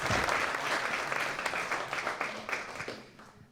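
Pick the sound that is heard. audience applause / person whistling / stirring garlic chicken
audience applause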